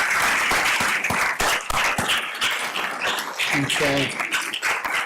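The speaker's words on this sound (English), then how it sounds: "a round of applause for all of our retirees and their service to the district" Applause fills a school district board meeting for retiring staff, with sustained clapping from the room as a voice briefly speaks near the end.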